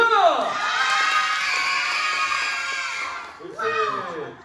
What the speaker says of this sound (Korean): 격파 주인공, 세력파 주인공 외인군을 소개합니다. 박수!